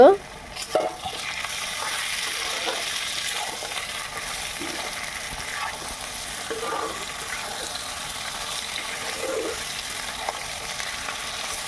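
Washed goat meat stirred and fried in a pan for mutton curry with papaya, making a continuous close sizzle broken by repeated scraping stirs, with a brief clatter at the start and no talking.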